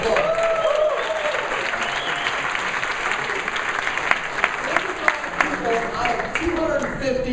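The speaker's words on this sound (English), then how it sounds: "give them a round of applause." Applause from an audience at a party event, steady and fairly loud throughout with a dense wash of clapping and some crowd noise, with a few sharper claps standing out near the end.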